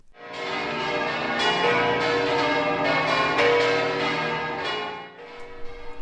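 Cathedral bells ring out loudly and festively, overlapping peals blending into a rich, sustained clangor before fading slightly at the end.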